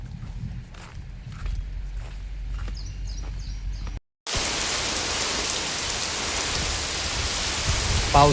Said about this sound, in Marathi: पावसाने सुरुवात केली आहे बघा